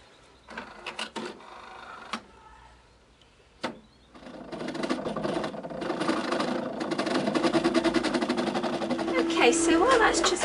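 Cricut Imagine machine printing and cutting card images from a loaded mat: a few clicks and whirs at first, then a sustained mechanical buzz with rapid rhythmic printer chatter that grows steadily louder, close by.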